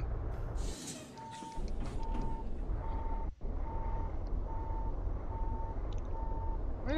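In Euro Truck Simulator 2, a truck's reversing alarm beeps steadily, about eight evenly spaced tones, over a constant engine rumble, with a short hiss of air partway through.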